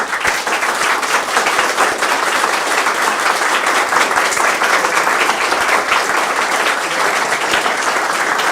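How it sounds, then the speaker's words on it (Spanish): Lecture audience applauding after a class on critical political economy: dense, loud, sustained clapping from a large crowd, steady throughout with no pauses and no voices. "aplauso"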